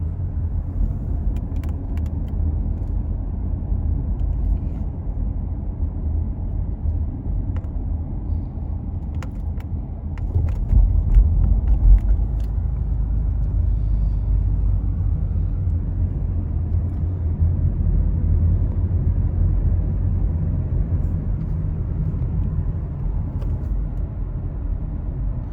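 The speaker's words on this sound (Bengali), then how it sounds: "আজকে প্রচুর রাস্তা জাম চলতেছে বাইপাসে।" Heavy night traffic on a bypass in Saudi Arabia, a steady low rumble of cars that swells slightly midway and carries on continuously without voices.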